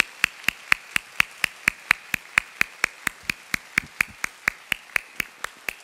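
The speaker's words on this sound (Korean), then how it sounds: "박수 소리가 더 컸어요 이번에요." An audience of seminary graduate students clapping in unison at a church service, a steady rhythmic series of about two dozen sharp, evenly spaced claps, close and clear without talk.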